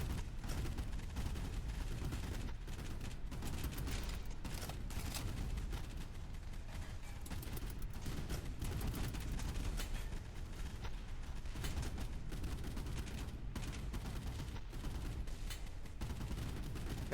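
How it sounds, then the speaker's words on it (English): Boat-mounted machine guns firing on a destroyer in a naval combat game, a continuous, dense rattle of overlapping bursts and thuds that stays steady and heavy throughout the battle. "Fire, machine guns, fire."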